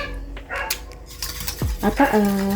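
A spoon clinks and scrapes against a bowl while stirring a creme brulee mixture of egg and cream, producing irregular close taps and rattles, with a brief squeak and a faint dog-like yelp near the end.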